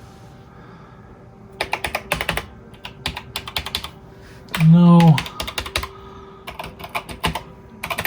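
Keys on an Epson PX-8 portable computer being typed in short clustered bursts of crisp clicks, close and fairly loud, with a brief electronic beep midway and a faint steady hum underneath.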